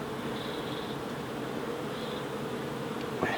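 Honey bees buzz inside a beehive, a dense, steady droning hum heard up close with no voices.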